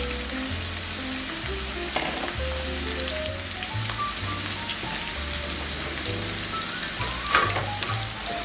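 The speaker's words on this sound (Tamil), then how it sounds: "எண்ணெய் சூடாயிட்டு ஆனியனை போடுவோம்." Sliced onion frying in about two tablespoons of hot olive oil, a steady close sizzle and crackle with occasional pops and soft stirring scrapes, continuous and alone without talk.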